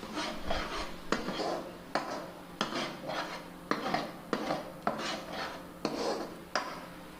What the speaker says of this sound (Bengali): এবার এই মশলার মধ্যে আগে থেকে ভেজে রাখা চিংড়ি মাছগুলোকে দিয়ে কষতে হবে